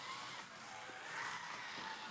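Scalextric BMW slot car running on a plastic track, a quiet, steady electric whir with faint rolling noise and no talking.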